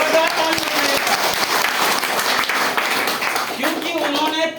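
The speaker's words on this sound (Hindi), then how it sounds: "जोरदार ताली उनके लिए, जोरदार ताली उनके लिए।" Loud, close applause from an audience at a marketing-plan meeting, vigorous clapping with distinct sharp claps and a voice speaking over it toward the end.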